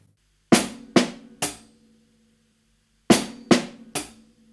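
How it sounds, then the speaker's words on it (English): Two three-note groups of snare and hi-hat strokes in a drum groove in 7, close and clear, each hit sharp with a short ring, played alone with a pause between the groups. "you get a pattern of 3 notes that is just snare hi-hat."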